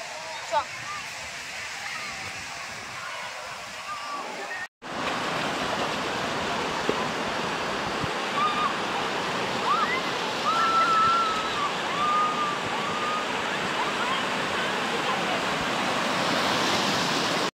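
Sea waves roll onto the beach at Digha at night in a dense, continuous roar that swells after a brief cut, with faint crowd voices mixed in.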